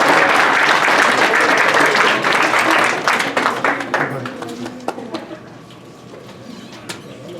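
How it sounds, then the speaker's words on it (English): Audience applause for student leaders at a ceremony of excellence, dense clapping filling the first few seconds, then thinning into scattered claps and fading out, with faint bird calls and murmuring voices underneath. "Let's give them a round of applause too"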